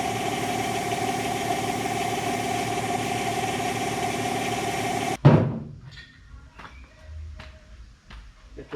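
An air compressor runs with a steady droning hum during a tractor tyre change, then cuts off abruptly with a thump, leaving faint clatter and quiet room sound.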